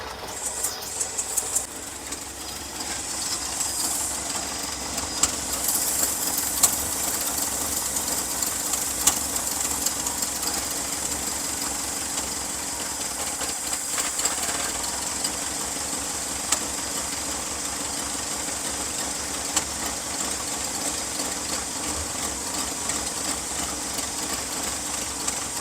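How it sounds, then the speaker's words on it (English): A Ford F600 truck engine with a Chinese Holley carburetor idles low, rumbling continuously with a rough, slightly uneven beat and no voices. "She's idling pretty low."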